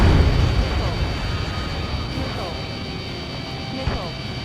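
Missile launched from a fighter jet in Ace Combat 7, a loud roaring whoosh over constant jet engine drone, fading slightly, with a brief sharp burst near the end and a voice speaking over it.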